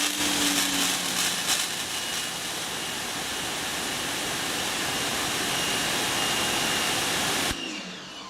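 A Greenworks 2000 PSI electric pressure washer blasts a continuous loud, broadband hiss of spraying water for several seconds, then cuts off abruptly near the end.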